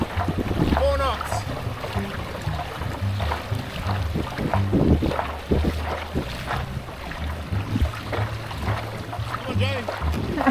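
A Walker Bay dinghy driven by an ePropulsion eLITE electric outboard at about 4 knots, with a low steady hum under water splash and wind buffeting and a voice speaking intermittently over it.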